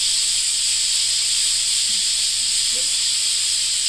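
A pressure cooker on a stove vents steam in a loud, continuous high hiss that holds steady throughout, close up, with no talking.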